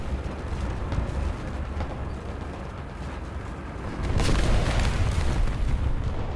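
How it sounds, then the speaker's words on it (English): Tank gunfire booms in War Thunder around a Soviet T-34 (1940) medium tank, a rolling rumble of shots that swells louder partway through. "They're still shooting in the smoke, trying to hit me"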